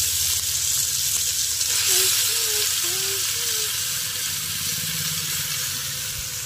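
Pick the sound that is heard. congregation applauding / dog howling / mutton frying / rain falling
mutton frying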